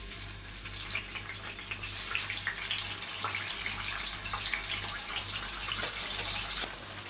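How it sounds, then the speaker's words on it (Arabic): Potatoes fry in hot oil with a loud, steady sizzling hiss that continues unbroken, with no talking. "وهنا اهو هحمر البطاطس"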